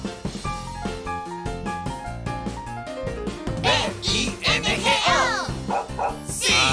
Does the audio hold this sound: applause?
no